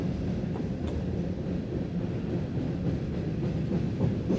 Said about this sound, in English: This has got to be a doubled up grain train today.